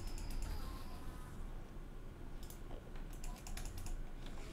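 Quiet, sharp computer mouse clicks during a Minecraft-style modded game, a few crisp taps in small clusters over a faint steady background.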